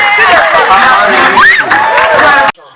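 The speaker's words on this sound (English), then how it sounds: "Round of applause for them" A crowd at a cultural dance competition cheers and claps loudly over dense chatter and excited voices, then cuts off abruptly near the end.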